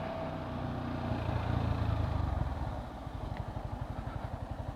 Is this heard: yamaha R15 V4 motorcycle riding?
yes